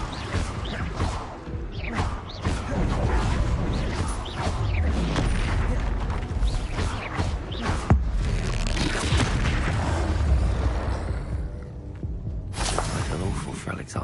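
Spell-casting effects from the video game Hogwarts Legacy: a dense, loud barrage of booms, blasts and crashes rolls on almost without pause, with voices mixed into the action.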